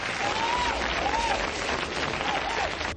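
An audience gives a steady, full round of applause at a radio station's birthday event, many hands clapping continuously and evenly for the whole stretch.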